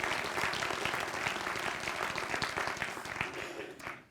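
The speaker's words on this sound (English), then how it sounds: "A round of applause for Rancho Cordova" A convocation audience at the Los Rios Colleges applauds Rancho Cordova, dense steady clapping sustained throughout before tapering off at the very end.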